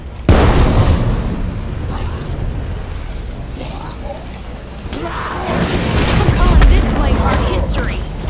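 A bloater gas grenade bursts with a loud boom in State of Decay 2, followed by a rumbling, hissing gas cloud and a second swell of explosive noise, with game sound effects.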